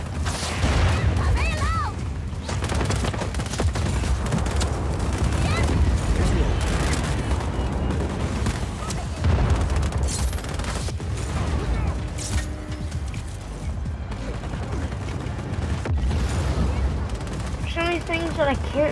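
Gunfire while shooting in Just Cause 4, dense and continuous rattling shots mixed with mechanical clatter and booms over a constant loud action backdrop, with occasional voices in between.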